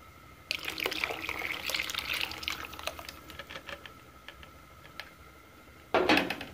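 Milk and flour mixture poured into hot soup on the stove, a liquid trickle and splash that starts abruptly, runs for several seconds, fades, then returns in a short louder burst near the end; no talking.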